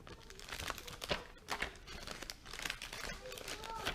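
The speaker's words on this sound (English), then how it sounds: "Sorry, not sorry for the crinkling. Sorry, not sorry, because I love that sound." Packaging crinkles in quick bursts during a cross-stitching session, close to the microphone and fairly quiet, with short crackling rustles and tearing-like crunches coming irregularly and no speech.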